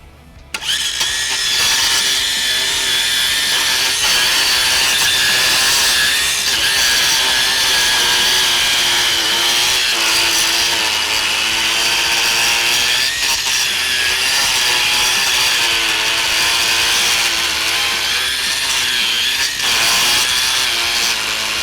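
A Milwaukee Quik-Lok edger attachment cuts along awkward lawn borders with a loud, continuous high whine and a gritty scraping edge that holds steady for about twenty seconds after a sudden start, with no talking over it.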